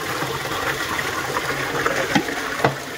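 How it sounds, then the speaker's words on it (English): Water pours back into a pond treatment pod, a steady close splashing trickle with small gurgling bursts near the end. "Let's get the water back into the easy pod."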